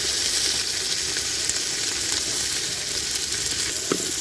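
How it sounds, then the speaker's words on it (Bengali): Potatoes frying with onions in oil give a continuous close sizzle with faint crackles and a few light stirring knocks, heard alone without voices. "আমি তেল পেঁয়াজে আলুগুলো একটু ভাজি করে নিব।"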